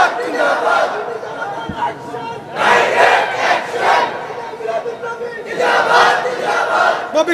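A large crowd at a late-night gathering in Cumilla chants zindabad in loud rhythmic surges, three swelling bursts of massed voices separated by lower murmuring.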